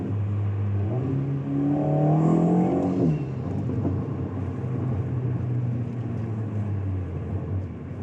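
A nearby Alpine A110 S Stage 2 engine revs hard in third gear, its pitch climbing quickly for a second or so before easing off into a lower, steady rumble.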